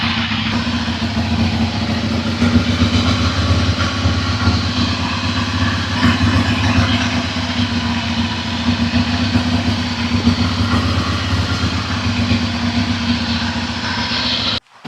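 A Ducati Monster motorcycle engine idles loud and close, with a steady low rumbling throb that holds evenly before cutting off abruptly at the end, no talking.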